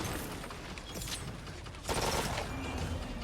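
Turrets fire in the action RPG Wolcen during a Gunslinger turret build, rapid mechanical rattling bursts, with a louder, denser volley near the end.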